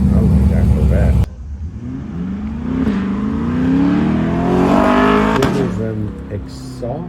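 A Corvette engine revs up with a rising, throaty exhaust roar after a brief burst of other sound, pitch climbing then dropping, fairly close and loud, at a car show in Carlisle, Pennsylvania.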